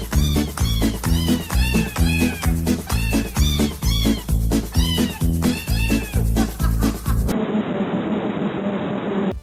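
Music: a rapid sequence of pitched cat meows, each cut off short and strung into a bouncy tune, loud and up front for most of the stretch before giving way to a dull, noisy passage at the end.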